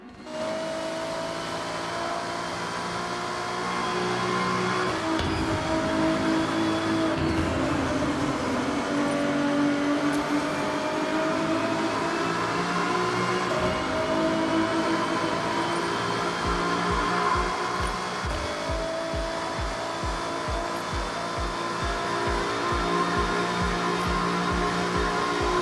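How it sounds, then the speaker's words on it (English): A car engine in a Japanese street-driving video game hums and whines steadily at speed, a sustained loud drone with shifting pitch, ending in a rapid rhythmic pulsing as revs change. "there's just something really therapeutic about hearing the sound of a car"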